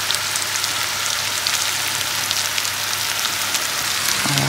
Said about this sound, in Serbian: Stavimo ulje, zagrijemo ulje i bacimo kupus da pražimo na tom ulju.